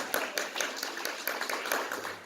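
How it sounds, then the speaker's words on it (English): Applause from a conference audience at a memory care summit, a dense steady patter of many hands clapping for about two seconds with no voices over it. "give a round of applause"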